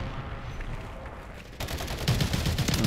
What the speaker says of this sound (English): I'm gonna shoot at the blood spot there